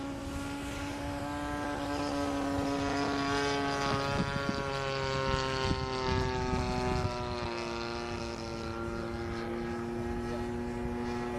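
A radio-controlled B-17 model airplane takes off and flies, its engines giving a steady droning buzz with a harmonic whine, fairly loud and continuous throughout.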